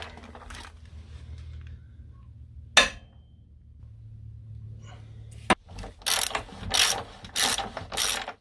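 A ratchet fitted with a 19mm socket works the rear axle nut of a Yamaha YZF R125 motorcycle, giving sharp metallic clicks, a couple of hard knocks, then quick bursts of close ratcheting.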